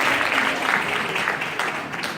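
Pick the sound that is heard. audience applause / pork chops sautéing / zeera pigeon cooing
audience applause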